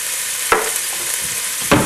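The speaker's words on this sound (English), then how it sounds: "I'm stirring those onions" Onions frying for spaghetti sauce hiss steadily in a pan, broken by two distinct scraping strokes of a spoon stirring them, close and clear.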